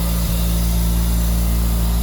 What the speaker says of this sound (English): It's still idling a little high.